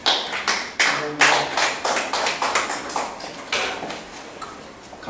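Scattered, uneven hand claps from a small audience greeting a lecturer at a talk on geriatric illness and disease prevention, the sharp claps close by and thinning out over a few seconds, with no voices.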